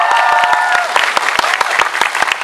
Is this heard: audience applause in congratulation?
yes